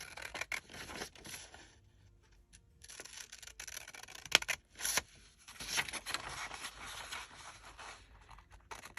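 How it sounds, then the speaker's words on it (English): Scissors cutting out a mini journal page at a desk, quiet close snips and paper rustles in irregular bursts with pauses between. "I'm going to grab one of these and I'm going to cut it out"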